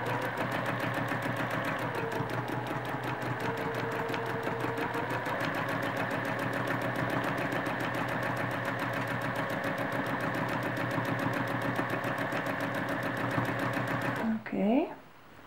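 A sewing machine stitches in the ditch on a quilt, its fast steady mechanical hum and needle chatter running continuously close by for about fourteen seconds before stopping, with a person talking over it.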